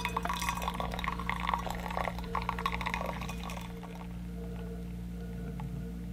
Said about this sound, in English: then we just slowly pour it through.